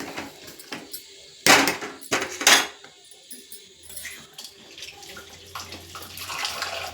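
A spoon clinks and scrapes against a metal pot of majjiga charu (buttermilk soup) in a few sharp bursts, then quieter stirring and faint kitchen clatter follow.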